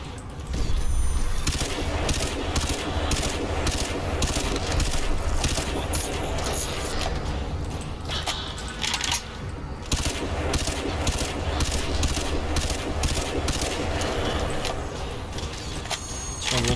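Sustained rapid automatic fire from the Grendel rifle in Crysis 2, loud and close, with dense repeated bursts and short breaks running throughout over game noise.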